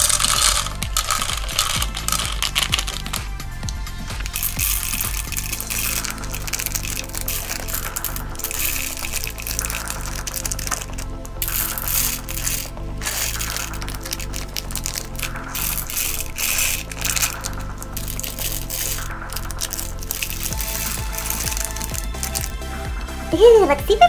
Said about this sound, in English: I'm gonna get every color beads and put them each in their own little compartment